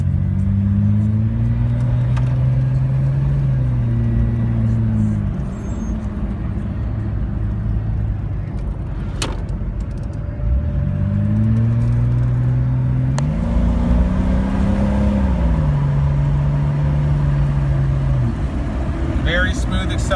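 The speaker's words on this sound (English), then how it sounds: "Very smooth acceleration." A lifted, built Stage 3+ Jeep Cherokee Sport accelerates smoothly, its engine drone rising through two loud, steady pulls with a shift between them, heard from inside the cabin.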